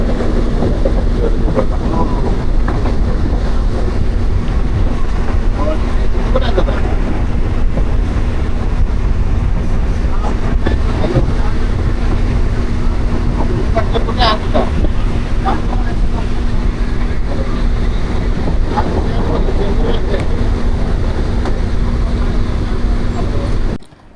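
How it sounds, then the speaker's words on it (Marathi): Steady rumbling interior of a moving train on a return trip during rain, a continuous low roar with a constant hum, loud and unbroken throughout, with a person talking over it. "बघा तर आता आपण ट्रेनमध्ये चालू आहे रिटर्नमध्ये"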